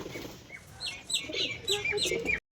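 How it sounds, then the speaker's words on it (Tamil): Birds chirp and call in short, bright bursts at a white pigeon farm, several overlapping calls close by against quiet background, ending abruptly. "புறா எல்லாம் மேய்ஞ்சிட்ருக்குங்க"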